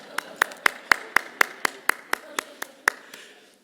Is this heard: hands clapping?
yes